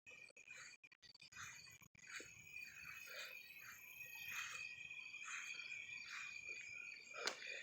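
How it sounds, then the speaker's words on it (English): Crickets chirp at night outdoors just after rain, with a thunderstorm nearby: a steady, shrill, pulsing chorus that continues throughout, moderately near and with no talking. "I bet you guys can hear the crickets."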